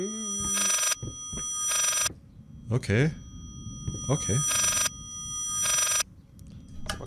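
An old telephone bell rings in repeated loud bursts of about half a second, roughly once per second in pairs, in the horror video game Layers of Fear, while someone talks briefly between rings.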